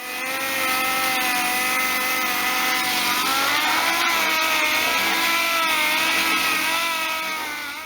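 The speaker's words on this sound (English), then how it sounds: "So I'm going to drag the table outside and start sanding it." A power sander (DA sander) whirs continuously on a pallet wood table outdoors, a steady high-pitched motor drone with slight wavering pitch, close and loud throughout.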